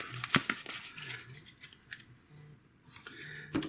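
Playing cards shuffled during a Micro Moonshine board game session, with soft close papery riffles and clicks coming in uneven bursts, quiet and without speech.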